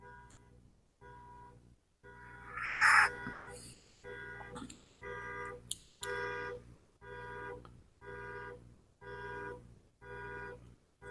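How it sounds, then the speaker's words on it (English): A car alarm blares in a steady repeating pattern of loud electronic tones, with a brief burst of other noise near the start. "I hope the guy who owned this car will stop the alarm"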